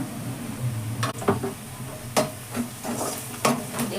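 Onions frying in a pan with turmeric for a prawn and gongura curry, a soft steady sizzle broken by several sharp scraping stirs and clinks of a spatula against the pan, close by.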